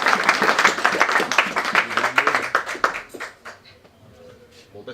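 Audience applause at a political dinner-debate on Europe, a dense wash of clapping hands that fills the room, then thins out and fades toward the end with voices murmuring beneath.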